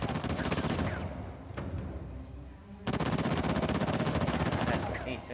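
Rapid automatic gunfire in Uncharted: The Lost Legacy, loud dense bursts that break off briefly, then resume even harder and continue to the end, with faint in-game voices mixed underneath.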